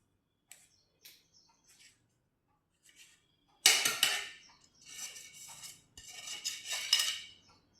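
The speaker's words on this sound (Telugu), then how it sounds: "నేను డైమండ్ షేప్లా కట్ చేస్తున్నాను, చిన్న చిన్న ముక్కల్లా కట్ చేస్తున్నాను." A knife cuts egg kabab into small diamond-shaped pieces, starting with a few sparse taps, then a burst of loud, rapid scraping and clicking against a plate or board, close up and without speech.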